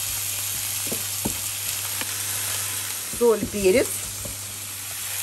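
Mushrooms fry in a pan with a steady, close sizzle, and someone speaks briefly in Russian over it near the end.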